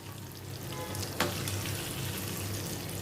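Wheat flour and fresh fenugreek mathri frying in hot oil, a quiet continuous sizzle with a brief sharp clink partway through.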